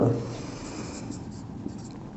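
Chalk or marker writing on a classroom board, soft scratchy strokes at close range, fairly faint, with a brief sound from the teacher at the start.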